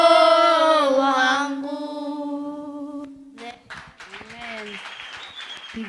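After a sung phrase fades, a church congregation at a Sunday service breaks into clapping for the children, scattered hand claps mixed with a voice speaking over them.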